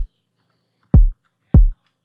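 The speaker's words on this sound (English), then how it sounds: "This is just the low of the kick drum," Synthesized kick drum from a Serum analog BD sine oscillator, two deep booming hits with quick decays, separated by clean silence, close and loud.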